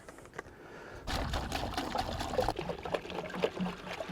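Caravan cleaning shampoo poured into a bucket of about ten litres of water, a close steady trickling stream that swells into a fuller gurgling pour partway through and keeps running to the end.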